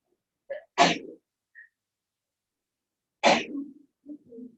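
Two sharp human sneezes in a quiet lecture room, the first with a small intake before it and the second a few seconds later, close and fairly loud, each trailing into a short breathy sound.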